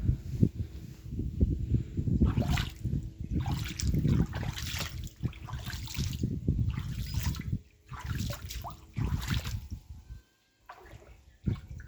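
Water flowing at a stream near Sutar Khora Mahadev, a close, loud gurgling rush in uneven surges with brief lulls.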